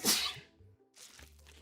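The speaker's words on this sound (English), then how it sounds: "sorry for sneezing in the mic, my bad." A single loud, sharp sneeze lands right up against a microphone, bursting at the start and then trailing off into near silence, followed by a faint low hum.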